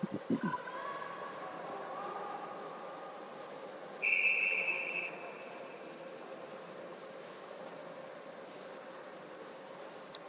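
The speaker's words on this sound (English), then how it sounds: "And they'll cover that for a whistle." Referee's whistle at a youth U12 ice hockey tournament game: one sharp, sustained blast lasting about a second, cutting through the steady murmur of the arena crowd and rink noise.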